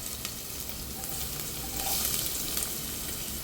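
Garlic and ginger frying in one to two spoons of oil in a pot make a continuous close sizzle that swells slightly midway, with no one speaking.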